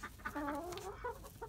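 Backyard chickens cluck and murmur close by, a soft, continuous run of throaty, wavering calls with no talk.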